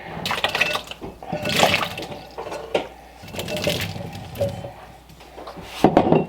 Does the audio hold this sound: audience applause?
no